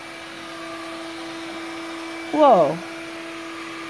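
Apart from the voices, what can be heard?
Bissell Lift-Off stick vacuum cleaner running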